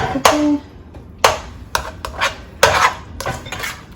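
A utensil scrapes and clinks against a pan while egg is stirred into a hamburger mixture, off the heat, giving irregular sharp metallic knocks and scrapes at close range.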